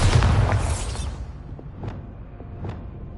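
A Bombarda blasting spell in a dark magic setting sets off a loud, deep boom that rumbles and fades over about a second. Two short, softer whooshing pops follow.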